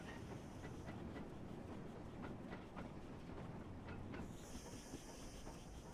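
Train in a railway driving game rumbles steadily with clicking wheels over rail joints and a hiss, loud and continuous, with a higher tone joining late.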